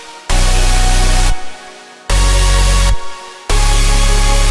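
Three loud, sustained layered synth chord stacks with lead layers, each holding about a second with brief gaps between, sounding full and wide with heavy low end and bright upper harmonics.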